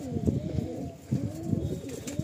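Madrasi and Giribaj pigeons coo in soft, repeated throaty bursts, close and steady, with a faint chirp now and then and no talking.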